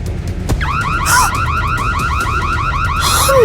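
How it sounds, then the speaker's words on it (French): A car alarm blares with a rapid, repeating warbling electronic whoop, loud and continuous throughout, preceded by a brief click as it starts. "L'alarme s'est déclenchée."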